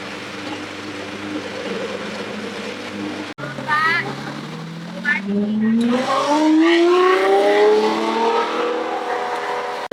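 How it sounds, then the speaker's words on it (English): A Lamborghini Revuelto with Gintani exhaust revs loudly on a street, a deep droning exhaust that cuts out abruptly then climbs in a rising, rasping howl, close and continuous, with a voice talking over it. "Revuelto is blasting on this street"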